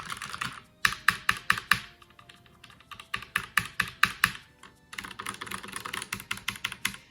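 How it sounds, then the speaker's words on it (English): Typing on a Redragon K589 Shrapnel low-profile mechanical keyboard with linear red Outemu switches, close and clear: quick bursts of soft keystrokes in an uneven rhythm, broken by short pauses, with no voices. "So nice quiet keys. Again, these are red, so they're linear."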